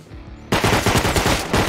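An SMG submachine gun in Rust opens up suddenly after a quiet start and fires a rapid, loud, close burst that runs to the end.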